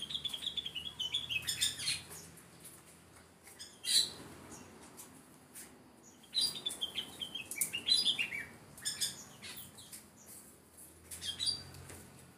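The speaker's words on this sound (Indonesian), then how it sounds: "Ini jalak Bali juga satu pasang." A pair of Bali starlings in an aviary giving bright, shrill chirps and whistled calls in repeated bursts, fairly close, with short quiet gaps between phrases.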